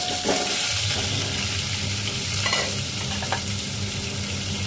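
Washed salted hog plums (ambade) go into a hot tempering and crackle in a steady, close sizzle with light stirring and scraping, a few louder spits scattered through.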